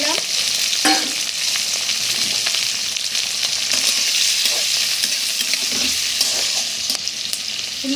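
Shrimp fry in a pan with onion and green chilies, giving a steady close sizzle with occasional scrapes and stirring clatter throughout.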